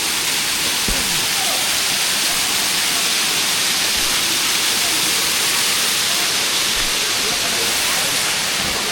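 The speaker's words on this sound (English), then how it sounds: "This is just one of the waterfalls." A tropical jungle waterfall in Bali roars as a loud, continuous broadband rush of falling water, steady and close throughout with no pauses.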